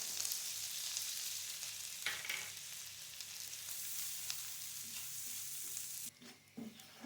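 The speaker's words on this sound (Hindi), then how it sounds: "मैदे को हमने यहाँ पे अच्छी तरह से भून लिया बटर के साथ" Flour fries in melted butter and vegetable oil in a pan for a white sauce, a soft continuous sizzle with occasional stirring scrapes and clinks, close and unbroken by talk.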